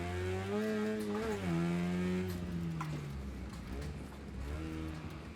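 A racing car engine in the video game Wreckfest 2 revs loud and close, its pitch climbing and dipping through gear changes over a steady mechanical drone, with no talking.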